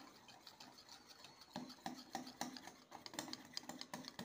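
Gram flour (besan) batter made with water is whisked in a bowl, giving quiet, rapid rhythmic tapping and swishing strokes that grow a little stronger partway through, close and faint with no talking.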